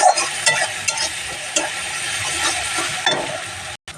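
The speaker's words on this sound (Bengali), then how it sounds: "রসুন বাটাটা একটু কষিয়ে নেবো, তাহলে রসুনের গন্ধটা ছাড়বে না।" Garlic paste fries in oil in a pan for a pangas fish curry, a steady close sizzle broken by scraping stirs, with a brief dropout near the end and no talk.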